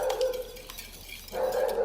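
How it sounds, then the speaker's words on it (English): A dog barks in the background of a home kitchen cooking show, a few sharp, fairly faint barks sounding through a steady room hum with no one speaking. "The pet you hear in the background, that is Al's new dog"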